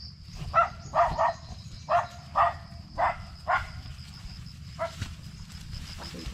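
A dog barks repeatedly in short bursts, some doubled, at moderate distance over a steady low background hum, with a thin high tone running throughout.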